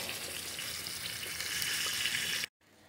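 Fish frying in a pan for a Jamaican brown stew, a steady close sizzle and crackle of hot oil that builds slightly, then cuts off abruptly near the end, leaving faint room noise.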